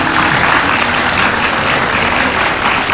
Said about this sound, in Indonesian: kasih tepuk tangan sekali lagi buat Eri